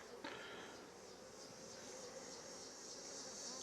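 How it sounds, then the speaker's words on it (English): Honey bees swarming an opened hive, worked without smoke, make a dense, steady buzz that fills the whole stretch, close and continuous with a slight swell toward the end. "Look out, bees."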